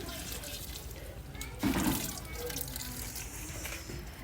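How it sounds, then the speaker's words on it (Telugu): Water is poured from a small vessel into a bowl of jaggery to make syrup, giving one short, gurgling splash that fades quickly against a quiet kitchen background. "ఇందులోకి కొంచెం వాటర్ వేస్తున్నాను, ఎందుకంటే బెల్లం పాకంకి కావాలి కాబట్టి"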